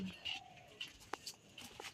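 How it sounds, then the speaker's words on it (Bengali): Birds call in a quiet village before sunrise: a few soft, dove-like coos and short chirps at a moderate distance over a hushed background. "হ্যাঁ, পাখি ডাকতেছে।"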